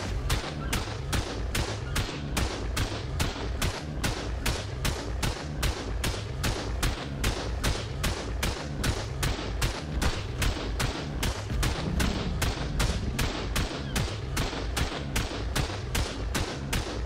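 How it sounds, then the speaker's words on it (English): Rapid, steady turret gunfire in the survival game ARK during a raid, a continuous loud stream of evenly spaced shots lasting throughout with no pauses. "I thought one had stopped shooting, mate."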